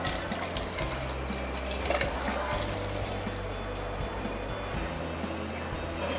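Liquid poured into a bottle makes a steady, soft trickling stream that runs on without a break, with no voices.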